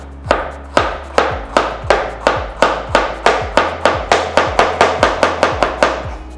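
A knife chops a vegetable into flower-shaped pieces on a cutting board while preparing vegetable chow chow: a steady, fast run of about seventeen sharp, close strikes with no talking.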